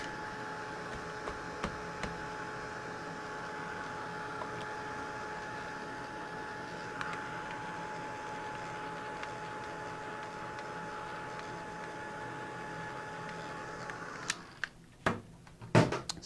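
A heat tool blows steadily across the back of a watercolor painting, a constant close whir holding for about fourteen seconds before cutting off into a few sharp handling clicks.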